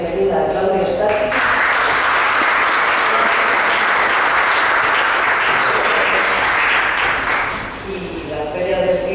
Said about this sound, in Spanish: damos un aplauso de bienvenida a Claudio Stasi